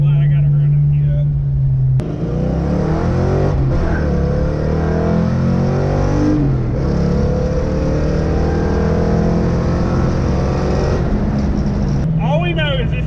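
A 1982 Mercury Capri Fox body with a Ford engine accelerates hard while spinning its tires, a loud sustained engine roar rising in pitch inside the car, with someone talking before and after the run.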